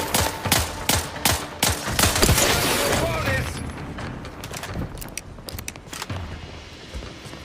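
Gunfire in a battle in The Outer Worlds 2 video game: rapid, loud automatic bursts and sharp individual shots up close, fading into scattered distant pops, with a voice speaking underneath.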